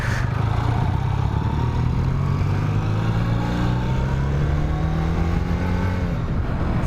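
A 1980 Honda Superdream motorcycle engine runs steadily at very low road speed, a close, continuous low drone with a slowly rising pitch under strong wind buffeting, and no talk.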